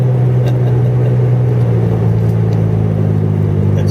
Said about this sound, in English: winter driving